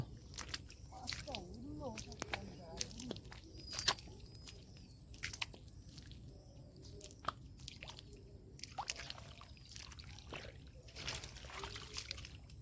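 Footsteps wading through shallow water near a Sundarbans wetland, with repeated splashes and trickles at an uneven walking pace, fairly close, over a low outdoor background.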